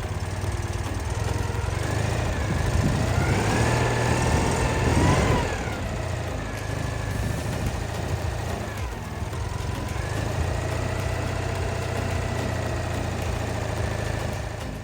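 A classic Citroën 2CV engine idles steadily after tappet adjustment, new engine mounts and a timing fix, a continuous close rattling putter with a brief swell in revs early on, then settling back to an even tickover.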